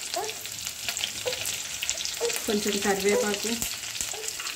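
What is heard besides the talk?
green chilies and curry leaves frying in a pan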